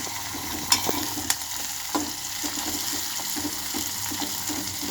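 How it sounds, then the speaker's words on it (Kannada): Vegetables for upma fry in a pan with a soft, continuous sizzle. A few sharp clicks and scrapes from stirring stand out, and there is no talk. "ಇದೆಲ್ಲ ಸ್ವಲ್ಪ ಚೆನ್ನಾಗಿ ಸ್ವಲ್ಪ ಕೆಂಪಾಗೋ ತನಕ ಫ್ರೈ ಮಾಡ್ಕೋಬೇಕು"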